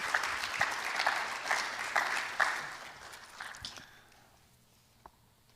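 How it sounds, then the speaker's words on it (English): An audience claps together in a dense burst of applause that gradually thins and fades away, leaving a few scattered claps near the end. "Give her a round of applause."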